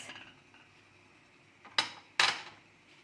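Metal spoon knocking against a pot while stirring coconut milk on the stove, two sharp clinks after a quiet stretch, close and clear.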